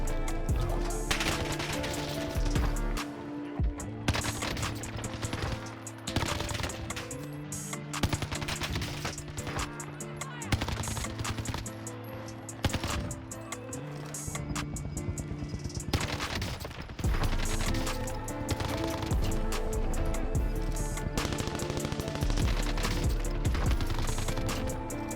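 Sustained automatic fire from a Vargo S rifle in a video game, dense rapid bursts nearly continuous and loud throughout, with no voices.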